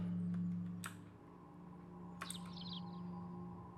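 Bird chirping in the video game The Lights Are Off, a couple of brief high twittering calls over a steady low game hum, moderately faint with no speech.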